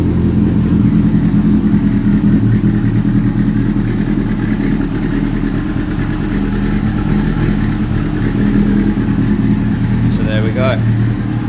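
Yamaha R6 sport motorcycle, converted from 5EB to 5SL, engine running with a steady loud mid-pitched drone throughout, fairly close, with a brief higher whine near the end.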